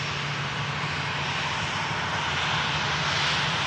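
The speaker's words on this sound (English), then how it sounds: "about to spool up from runway 23 left for its flight over the Atlantic to Orlando" A Virgin Atlantic jet airliner, flight VS73 to Orlando, spools up its engines on runway 23 left, a steady broadband roar holding at a constant loud level throughout.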